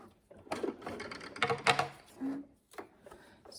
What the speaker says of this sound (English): I'm going to reverse a few and then sew off the edge